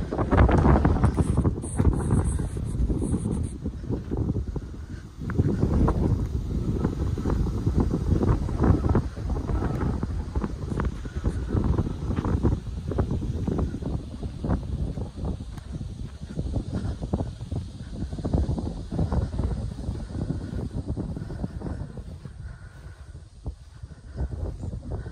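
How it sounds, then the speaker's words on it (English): Strong wind gusting through an orchard beside a padlocked gate, a loud, continuous roar and buffeting against the microphone that rises and falls for the whole stretch, with no talk. "the wind's coming up really bad, and I know what it sounds like with the wind"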